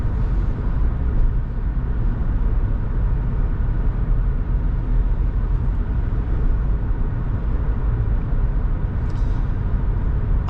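A car pulls away again after braking for a pedestrian, filling the cabin with a loud, steady engine and road rumble that holds constant throughout, with no talking.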